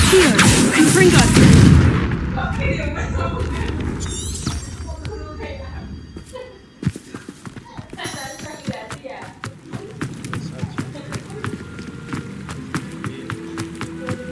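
A Confringo explosion spell goes off in a Harry Potter video game during a boss fight in the Professor Rackham mission. A loud, booming blast opens the clip, followed by rumbling, scattered impact taps and combat effects.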